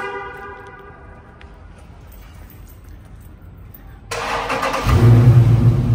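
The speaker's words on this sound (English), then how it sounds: "I'm gonna give y'all a little cold start." A Dodge Scat Pack cold start: quiet idle-level rumble for about four seconds, then a sudden loud broadband burst as the engine fires, settling into a deep, heavy, close rumble.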